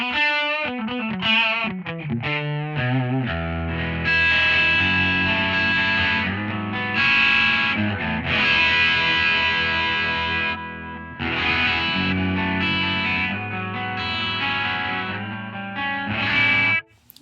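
A doubled, chorus-like electric guitar plays sustained chords and melodic lines through the twin tracker effect of a Two notes Genome, giving a wide, shimmering, slightly detuned sound throughout.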